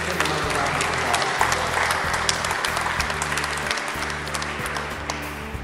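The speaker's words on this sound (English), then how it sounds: "let's give him another round of applause." Loud, sustained audience applause at a senior center party, a thick crackle of many hands clapping together over a low, steady hum, continuing evenly for several seconds.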